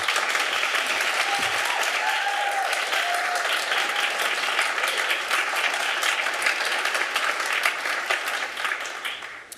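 Audience in the Costa Mesa city council chambers breaks into sustained applause, a dense, even wash of many hands clapping that holds steady before easing slightly at the end.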